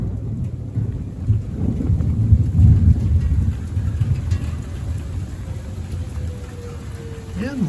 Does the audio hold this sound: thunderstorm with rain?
yes